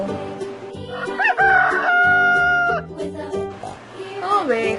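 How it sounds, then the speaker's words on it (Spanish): Loud, close rooster crowing on a farm, one long drawn-out crow followed by a shorter call near the end, layered over children's background music with no talking. "Gallo."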